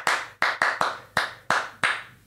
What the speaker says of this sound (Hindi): ये जो एनएसएस की क्लैब है, जिसको एनएसएस क्लैब बोलते हैं, वो एनएसएस की पहचान है।